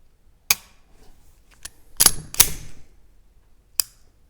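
Trigger pull of a Sig P365X Macro pistol: a few sharp, close mechanical clicks spaced over several seconds, with a denser cluster of clicks in the middle as the trigger breaks and resets, otherwise quiet.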